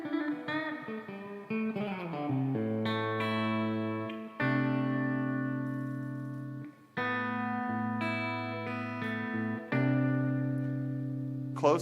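An electric guitar played live through a reverb effect rings out in sustained chords and single notes, each swelling and trailing off in a wash of echo, loud and close, with brief voices in the background.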